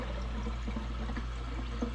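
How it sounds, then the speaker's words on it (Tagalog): Water being poured or drawn from the side in a home kitchen, a steady low splashing rush that continues for two seconds without talk. "kuha tayo ng tubig dito sa gilid"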